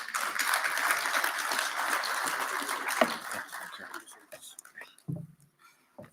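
An audience claps after a presentation at an education sector conference. The dense applause stays fairly loud, then thins into scattered claps and fades to near silence.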